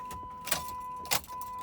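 A 2006 Dodge Durango with a 5.7L engine has its ignition key cycled on and off to prime the fuel pump, giving a steady electrical whine and two brief clicks, close by.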